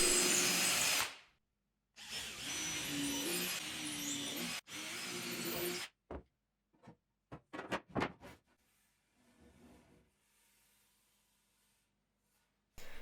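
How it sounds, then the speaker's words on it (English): Hand drill pre-drilling holes in a wooden shelf, two loud bursts of whirring drill noise, then a scatter of short clicks, taps and handling knocks before a quieter shuffle and a final brief burst. "Once again, I'm just using the hand drill to pre-drill the holes."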